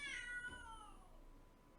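A cat meows in The Sims 3, a single drawn-out, falling cry that starts loud and close and then fades away, with no one speaking.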